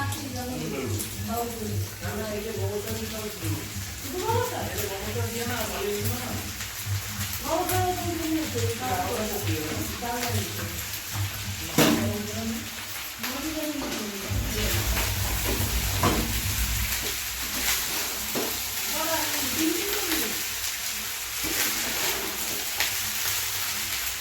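Rice being stir-fried for mixed vegetable fried rice, a steady sizzle with scraping and stirring in the pan throughout, while someone talks over it at close range.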